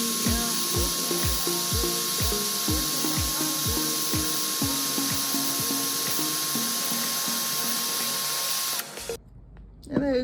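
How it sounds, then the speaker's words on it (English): A hand file strokes the end of a new car door lock actuator motor, producing about fifteen rhythmic rasping scrapes in steady succession, close and clear, before stopping abruptly. "just need a little bit filing on this end so it doesn't, you know, get stuck anywhere"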